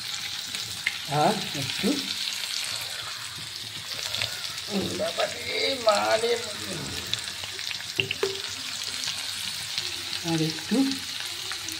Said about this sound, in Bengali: এবার আদা রসুন পেস্টটাও দিয়ে দিচ্ছি।